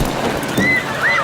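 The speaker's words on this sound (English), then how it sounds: "Yeah, it is raining." Steady rain patters on a car, a dense, close hiss of drops on the body and glass with no talking.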